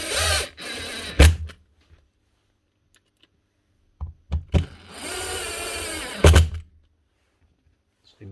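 Countersunk screws being driven in short bursts, cutting their own threads while a Makita 9046 half-sheet sander is reassembled: two loud whirring, grinding runs with clunks, separated by near silence.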